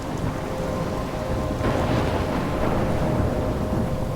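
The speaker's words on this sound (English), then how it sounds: "I'm trapped in a storm?" Thunderstorm in the video game Life Is Strange, with steady heavy rain hissing throughout and a deep rumble of thunder swelling near the middle, loud and continuous with no voices.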